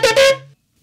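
A big shofar blows the alarm (teruah) in two quick loud blasts that run together and then tail off over about half a second, heard alone with no voices.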